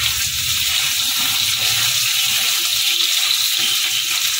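Pieces of gathi kochu (taro) fry in oil in a pan, giving a steady, loud, close sizzle that runs unbroken throughout with no one speaking.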